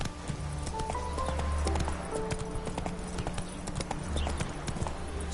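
A horse gallops in The Witcher 3 video game, a steady rapid clip-clop of hooves running continuously at moderate level over a low droning background.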